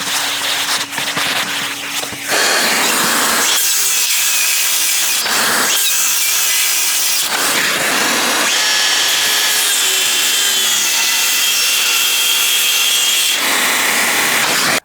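A DeWalt DCS565 brushless circular saw rips through wood in several loud, close passes, its high whine dropping briefly between cuts and then biting in again.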